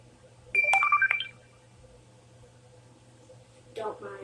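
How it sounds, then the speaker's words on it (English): A short phone notification chime rings out clearly as a bright tonal jingle of a few notes, followed by a faint stretch of quiet room and then a brief rustle near the end. "Don't mind that, it's just notification."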